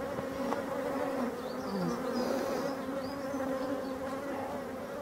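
Steady, close humming drone of many honeybees buzzing around an open hive in a forest apiary, continuous and even throughout, with occasional individual bees flying past.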